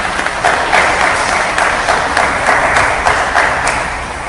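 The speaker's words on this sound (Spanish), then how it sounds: "Un aplauso, por favor." An audience claps at a library event in Santiago's National Library, a moderate crowd's applause swelling in after a brief pause and holding steady with some distinct individual claps.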